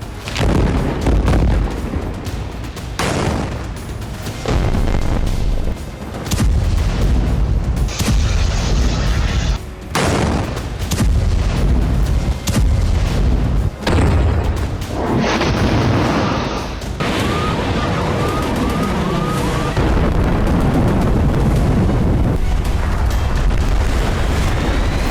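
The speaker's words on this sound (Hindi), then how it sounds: "ऐसा भयंकर धमाका, कोने कोने को कपाने वाली आवाज" Huge explosion blasts in a war setting, a long series of loud booming detonations and rumbling bursts, some sharp cracks amid continuous heavy noise, with no talking.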